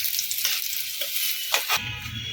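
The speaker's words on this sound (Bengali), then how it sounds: "এই তেলেই উচ্ছেগুলোকে একটু ভেজে নেব" Bitter gourd pieces fry in hot oil that was just used for aubergine, a loud close hiss with short surges of sizzle and crackle that drops suddenly near the end.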